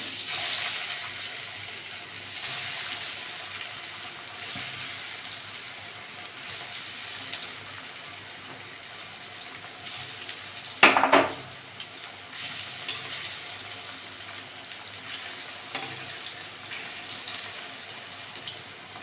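Papaya dhoka pieces fry in hot mustard oil with a steady, close sizzling hiss, broken by a brief louder splutter partway through.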